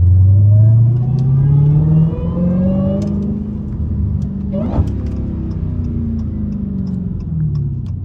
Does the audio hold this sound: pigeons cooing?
no